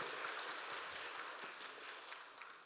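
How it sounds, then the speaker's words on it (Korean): A church congregation at Sunday worship applauds in celebration, a faint, steady wash of many hands clapping in a large room, with no voices over it. "박수로 축하하겠습니다."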